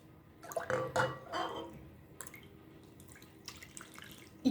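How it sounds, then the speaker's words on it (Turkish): Lukewarm chickpea water is poured slowly into a natural-leavened corn bread mixture, a soft, close trickling and splashing that comes in gentle bursts and tapers off, with a faint voice in the background. "Şimdi içerisine suyumu ilave etmeye başlıyorum."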